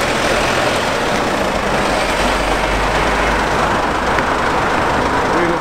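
A recovery truck pulls away carrying a crash-damaged Mercedes GLC63 AMG, a steady loud engine rumble with broadband road noise that holds evenly throughout, close by and unbroken.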